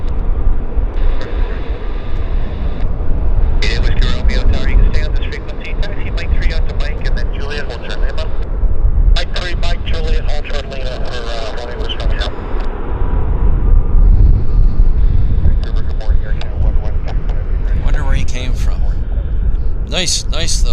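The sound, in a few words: airplane at Vancouver airport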